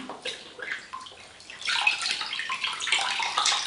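Cloth soaked in room-temperature water is lifted and dipped into soapy water for natural dyeing with plane-tree wood, a soft close sloshing and trickling that grows busier halfway through.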